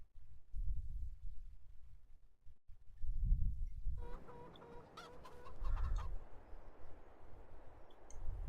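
Chickens cluck repeatedly on a farm in Farming Simulator 22, with low rumbling ambience throughout and a brighter burst of clucking and bird calls midway, moderately close.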